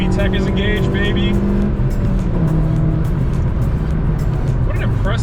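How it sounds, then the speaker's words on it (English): A 9th-generation Honda Civic Si sedan engine revs hard under acceleration with VTEC engaged, rising in pitch through the gear before settling, heard loud from inside the car, with a person talking over it. "VTEC is engaged"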